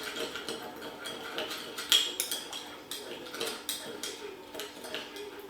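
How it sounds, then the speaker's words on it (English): Salt and pepper being mixed in a bowl with a level teaspoon of salt, giving light clinks and scrapes of utensil against the bowl in irregular bursts, fairly quiet and close, with no talking. "Give it a mix."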